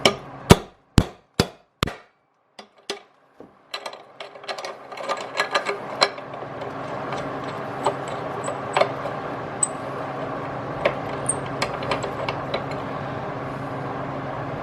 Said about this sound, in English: I'm just going to try to bash these out.